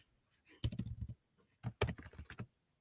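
Keys on a computer keyboard are struck in two short bursts of quick taps, close by and fairly quiet, separated by a brief pause.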